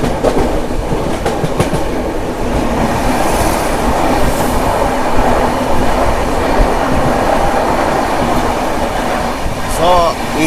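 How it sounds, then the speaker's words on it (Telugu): A train rumbles past on the adjacent track during a Charminar SF Express journey from Chennai Beach to Hyderabad, with a loud steady roar, wheel clatter and a few high squeals near the end. "ఏదో ట్రైన్ అయితే వస్తుంది. ఆ పక్క ట్రైన్ కూడా ఏదో అయితే ఉంది."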